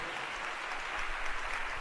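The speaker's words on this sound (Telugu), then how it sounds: "నమ్మిన వారు గట్టిగా చప్పట్లు కొట్టి దేవుని మహిమపరచండి" Steady clapping from a church congregation, dense and continuous, with no clear individual claps standing out.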